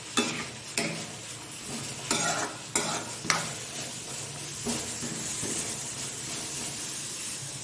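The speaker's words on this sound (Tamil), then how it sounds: "இப்போ உப்பு சேர்த்து கிண்டி விடலாம்." Potato fry being stirred in a hot pan after salt goes in, with a spoon scraping in several sharp strokes over a steady sizzle of frying; no voices.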